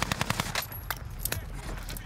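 Rapid bursts of gunfire from a video game match, with a broken PPSh submachine gun among the weapons, crackle in quick uneven volleys throughout, dense and close, with a voice briefly audible.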